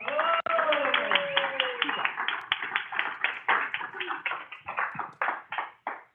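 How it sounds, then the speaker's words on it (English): Clapping from a small group welcoming a speaker to a talk, quickening then thinning into scattered claps, with a voice talking over the start. "give her a big hand, big applause"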